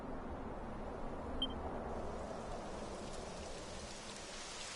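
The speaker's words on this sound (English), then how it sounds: "It would have to go and start raining, wouldn't it?" Light rain begins falling in Dragon Quest XI, a soft, steady hiss of drops that stays faint and even throughout, with no voices.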